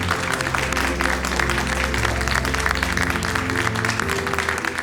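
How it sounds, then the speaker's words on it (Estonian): An audience applauds the winner of a youth cleaning-service skills competition, with steady, dense clapping filling the whole stretch over a low hum of a hall. "teeme suure aplausi"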